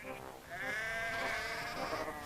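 Sheep bleating in a steady, wavering cry that holds for a couple of seconds, fairly close and loud, with faint rustling beneath.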